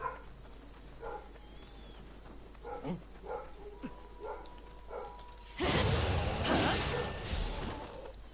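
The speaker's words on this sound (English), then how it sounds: "I don't know what that dog is barking at." A neighbor's dog barks faintly in the distance, a scattered handful of muffled yaps over quiet background, before a loud, sustained swooshing rush takes over.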